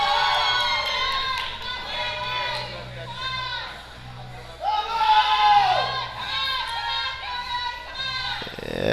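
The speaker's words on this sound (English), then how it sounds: "You're going to hear the shouts of encouragement from the crowd." A crowd at a powerlifting championship deadlift shouts and cheers loudly in overlapping voices, easing briefly mid-lift before surging again, with an announcer speaking under the noise.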